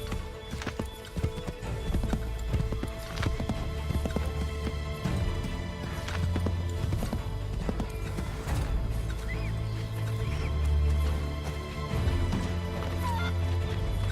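Horse hooves in Assassin's Creed 3 clip-clop loudly and steadily, close by, over a dense game soundtrack and ambience, with occasional whinnies and a few heavier knocks.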